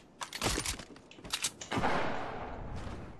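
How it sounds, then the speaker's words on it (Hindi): Gunfire rattles in Fortnite, with quick bursts of sharp shots in short clusters followed by a fading reverberant tail, moderately loud with no voice over it. "तबाही गोलियाँ चलाई जा रही हैं।"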